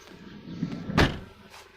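Power door locks engaging on a 1998 Dodge Grand Caravan SE: a single brief mechanical clunk, close by, over a low background rumble.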